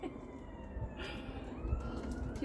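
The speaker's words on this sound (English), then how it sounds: "Sirens and shit in the background." Emergency vehicle sirens wail faintly in the distance, a thin rising and falling tone under low background rumble, with no one speaking.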